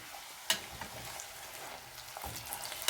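A huarache, a Mexican masa flatbread, fries in a pan with a steady, soft sizzle throughout, broken by a couple of sharper pops and crackles.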